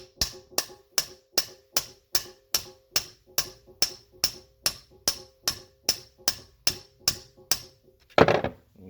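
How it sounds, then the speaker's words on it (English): Steady, evenly spaced metal hammer blows driving out a stuck part during a turbo build, about seventeen sharp strikes in a row, close by, followed by a brief rough scraping clatter. "So now I'm just gonna take the hammer and just kind of."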